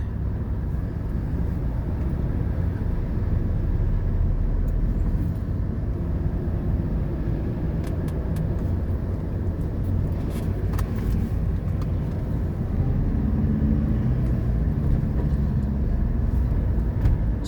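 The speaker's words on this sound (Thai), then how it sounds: "ตอนนี้กำลังจะขึ้นทางด่วนครับบุรพาวิถี รถค่อนข้างเยอะครับ" Dense, heavy car traffic roars steadily from inside a van entering the Burapha Withi expressway, a continuous low road rumble with passing vehicles and no talk.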